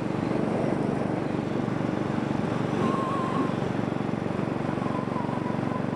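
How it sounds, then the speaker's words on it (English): Steady, loud wind roar buffets a helmet-mounted microphone while riding a motorcycle, a broad continuous rush with the engine blended underneath, no voices. "The wind has picked up a little bit"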